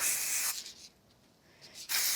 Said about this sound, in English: So I'm going to use some spray glue for this.